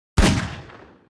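A single sharp gunshot fired at Toy Bonnie in the augmented-reality game FNAF AR, loud and close, with a sudden blast that decays into a ringing tail over about a second.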